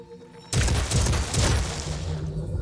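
Enemy gunfire in the video game Phoenix Point, a loud sustained burst of rapid shots with booming low impacts that starts abruptly and rolls on for about two seconds before easing off, with no talking.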